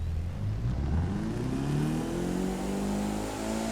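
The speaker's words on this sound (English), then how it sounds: "the exhaust tone sounds amazing" A Mitsubishi Eclipse GSX engine in The Crew 2 revs steadily, its deep exhaust tone rising in pitch as it accelerates, loud and continuous with no talking.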